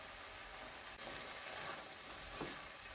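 Tomato sofrito for Valencian rice fries in a pan as it is stirred, a steady soft sizzle and crackle with faint scraping, continuous and fairly quiet without voices.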